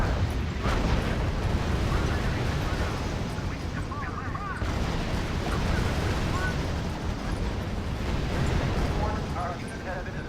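Artillery and gunfire from the strategy video game R.U.S.E rumble continuously through a dense, loud battlefield din, with booms layered over steady low noise and faint radio-style voice bits.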